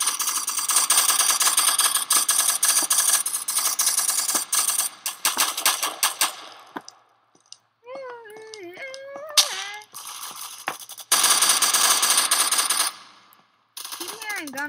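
Gunfire in a Roblox Call of Duty game: long dense bursts of rapid automatic fire, loud and near, broken by short pauses, with a few rising whistle-like tones in a quieter gap.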